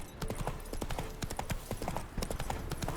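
Horse hooves clip-clopping in The Witcher 3, a quick, steady run of close, crisp hoofbeats, with a faint whinny in the mix.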